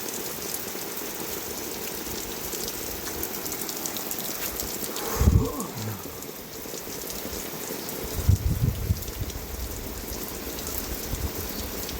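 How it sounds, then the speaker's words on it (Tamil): Steady heavy rain pours down continuously, a dense hiss with a couple of louder splashes or thumps nearby. "இந்த மழை விடாது பெஞ்சிக்கிட்டே தான் இருக்கும்"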